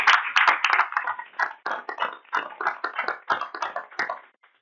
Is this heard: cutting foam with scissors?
no